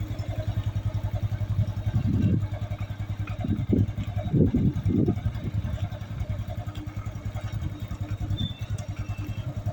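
A cold Brava cup motorcycle engine idles after sitting unused for three weeks, a steady low, rapid thump with clattery bursts of revving in the middle, close up and with no talk over it.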